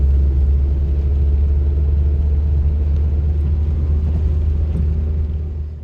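A car sits in a traffic jam on a bridge across a river, with a steady deep rumble of engine and road noise heard close from inside the vehicle and no talking.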